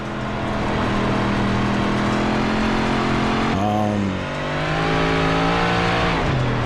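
Big block dirt race car engine from iRacing at Eldora, a loud steady roar with harmonic drone, briefly dipping and shifting pitch around the middle as the throttle lifts, then climbing again.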